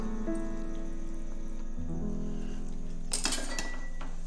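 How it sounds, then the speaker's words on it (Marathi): Small spoon stirring sesame laddu mixture in a pan over low heat, a few light metallic clinks and scrapes close up, with no voices. "थोडं थोडं आपण फिरवून घेत जाऊया छोट्या चमच्यानेच मी आधी फिरवून घेणार आहे"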